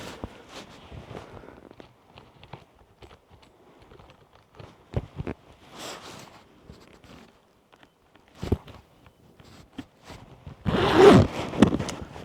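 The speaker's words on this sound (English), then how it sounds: "I'll see if I can zip it up." A leather jacket being zipped up while worn. Scattered soft rustles and short fabric clicks lead to a louder, close zipper run near the end.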